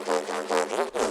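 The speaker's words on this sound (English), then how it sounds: "even more compressed and distorted layer" Heavily compressed and distorted synth bass layer from a remix drop, gritty and bright with little low end, pulsing in four wobbling stabs, heard alone.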